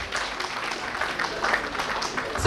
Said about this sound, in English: Round of applause to our Honorable Chief Guest.